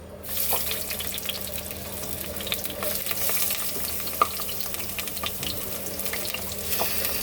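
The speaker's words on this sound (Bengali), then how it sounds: "এখন আমি এক এক করে মাছগুলো ছেড়ে দেব" Fish fry in hot oil in a pan, a steady sizzle and crackle with a constant bright hiss and occasional pops.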